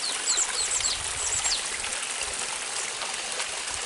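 A small waterfall in a mountain valley stream at Jangryongsan in Okcheon County, North Chungcheong, splashes and rushes steadily and close, a constant bright wash of flowing water with no voices.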